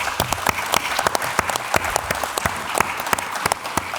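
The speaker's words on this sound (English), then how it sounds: "Let's give Eero a round of applause" An audience at a symposium in Thessaloniki applauds steadily, many hands clapping in a dense, lively patter that continues without speech.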